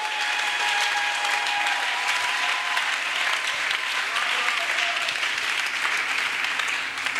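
A church congregation claps steadily and loudly for the whole stretch, a dense, even wash of applause with faint crowd murmur and no pause.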